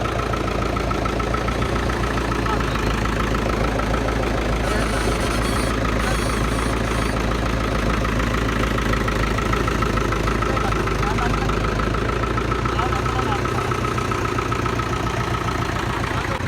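A tractor-driven straw chopping machine runs with a loud, continuous engine drone and low rumble throughout, steady and close.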